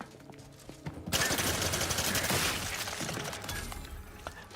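Rapid, dense gunfire in the sci-fi video game The Outer Worlds 2, a loud sustained burst of overlapping shots with sharp cracks and shattering impacts, trailing off into scattered pops.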